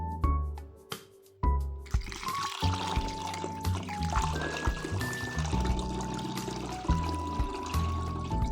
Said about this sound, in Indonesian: kita masukkan air. Kalau saya cuma memakai air biasa guys, air keran